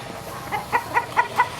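A hen on a game fowl farm clucks in a short run of four or five quick, evenly spaced notes, close by against quiet surroundings.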